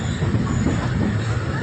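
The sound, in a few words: Parasuram Express train arriving at Eraniel railway station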